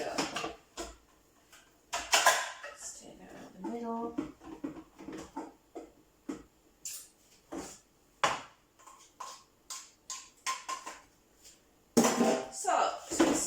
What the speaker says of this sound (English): Spoon some of this into my bowl.